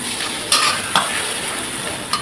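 Thai-style omelette frying in a pan, a loud, steady crackling sizzle with a few sharp spatula scrapes as it is turned, close by.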